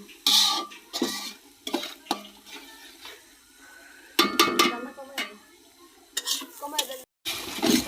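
Food is stirred and sautéed in a pan while it cooks down, with scraping strokes and clinks of the spoon against the pan in bursts, separated by pauses and people talking nearby.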